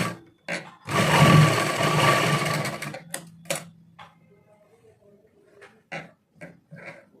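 A sewing machine stitches a trouser waistband for elastic in one brisk, close burst of about two seconds, followed by quiet stretches with scattered soft clicks and handling noises.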